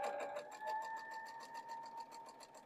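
A sewing machine stitches a quarter-inch quilt seam for a Double Maltese Cross block, giving a steady, fast rhythmic whirring hum at moderate, close level with no talking.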